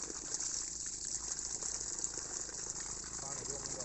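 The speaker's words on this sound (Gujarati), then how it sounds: "હા પાણી જો હવે હાલતું થઈ ગયું છે કેરામાં." Water from a motor pump flowing into a field channel, a faint continuous gush and rattle with a low engine hum beneath, heard from a short distance, with some voices nearby.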